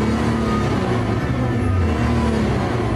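A Nissan GT-R R35 engine running on a factory test stand after its first start, a steady loud mechanical drone with a slight rising rev over about three seconds.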